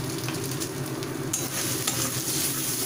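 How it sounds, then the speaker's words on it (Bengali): Ground turmeric, Kashmiri chili powder and cumin sizzling in hot oil as they are stirred, a steady close frying hiss with light scraping of the spoon against the pan. "দেখুন চারিদিক দিয়ে তেলও ছেড়েছে এবার আমি এর মধ্যে দিয়ে দেব এক এক করে হলুদ গুঁড়ো কাশ্মীরি লঙ্কার গুঁড়ো"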